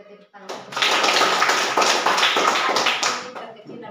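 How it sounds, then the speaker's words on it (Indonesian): Students in a classroom clap their hands together in a loud, dense burst of applause lasting about three seconds, close by and rhythmically uneven, with a brief voice before and after it. "Mari kita tepuk tangan."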